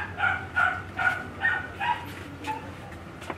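A household dog barks in a series of about seven short, fairly close yaps at a steady rhythm, with a faint yelp near the end.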